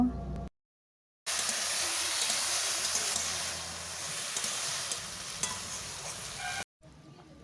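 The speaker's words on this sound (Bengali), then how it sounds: "হলুদ গুঁড়ো আর লবণ দেওয়ার পর ভালোভাবে নাড়াচাড়া করে আলু আর বেগুনের সাথে মিশিয়ে নেব" Potatoes and eggplant stirred with turmeric and salt in a pan for a greens chachchari, a continuous soft frying hiss and scraping broken by two short silent gaps, moderately quiet with no voices.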